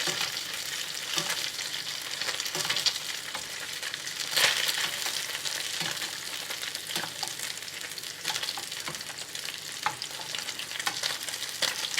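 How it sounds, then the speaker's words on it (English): Pan-seared sea bream (dourade) fillet is basted in a hot pan, keeping up a dense, crackling sizzle, with quick spoon scrapes and splashes of hot fat rising at intervals, close up and with no talking. "And now let's continue to baste."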